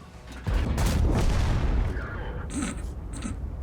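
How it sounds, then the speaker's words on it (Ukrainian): Tank cannon fire in the World of Tanks video game, with a heavy boom at about half a second followed by a loud rumbling tail and a couple of fainter sharper hits later, with no talking. "Він третім пострілом не пробив."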